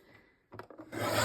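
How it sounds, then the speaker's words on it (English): Cardstock is trimmed to width for a gift card holder, with a few close scraping strokes followed by a louder, sustained rasping slide of a paper trimmer blade. "I'm going to cut this to 3 7/8 inch wide"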